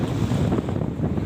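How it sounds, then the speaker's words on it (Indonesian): Waves on Lake Toba wash against a boat in a steady, loud, close rush of water with heavy wind buffeting the microphone and no talking. "Tapi ini kadang ombaknya besar,"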